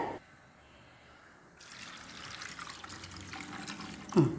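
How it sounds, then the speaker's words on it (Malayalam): After a quiet start, water pours steadily into a pot with a soft rushing trickle, ending in a brief clunk. "വെള്ളം ഒഴിക്കട്ടെ"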